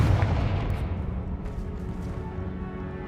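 A Confringo fire spell blasts in Hogwarts Legacy, a deep booming burst up front that rumbles and slowly fades over about three seconds, no talk.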